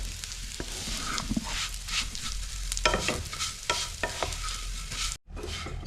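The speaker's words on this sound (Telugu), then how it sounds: "ఇప్పుడు సేమియా వేసుకుందాము సేమియా కూడా వేసుకోవాలి మాడిపోద్ది తిప్పుతూనే ఉండాలి" Semiya vermicelli frying in a pan for sweet kesari, stirred continuously: close, busy scraping and clinking of a spatula over a soft sizzle, with a brief drop to near silence near the end.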